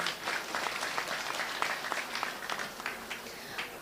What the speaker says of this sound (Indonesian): Oh, tepuk tangan dhisik rapopo.